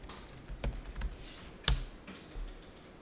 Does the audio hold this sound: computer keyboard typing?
yes